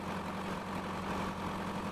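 A tractor engine idles in Farming Simulator 19, a steady low rumble holding evenly through the whole short stretch with no voices over it.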